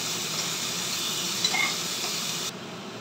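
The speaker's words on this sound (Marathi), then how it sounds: "त्यांना मस्तपैकी भाजून घेऊ आपण. गॅस कमी करायचं आणि ह्यांना मस्तपैकी भाजून घ्यायचं." Ivy gourd vegetables roasting in a pan over low gas, giving a steady close sizzle and hiss that runs unbroken, then drops slightly quieter near the end.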